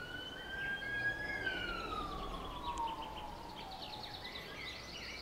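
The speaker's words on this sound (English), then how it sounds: "Looks like we've got a bit of an emergency nearby." A wailing emergency siren in the fishing game Russian Fishing 4 at Mosquito Lake sweeps slowly downward in pitch, sounding at moderate distance over steady ambient outdoor noise, with faint bird calls and no talking.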